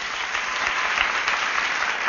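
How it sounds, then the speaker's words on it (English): Studio audience clapping on a daytime talk show, a dense, even burst of many hands close and loud with no voices over it. "Don't clap because I clap."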